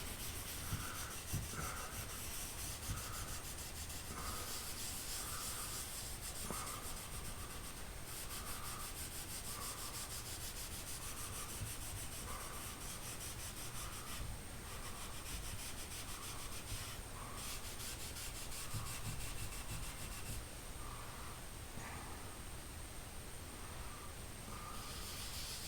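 Wood stain is rubbed into a sample board with a cloth, a steady scratchy rubbing made of regular back-and-forth strokes, close and alone for the whole stretch.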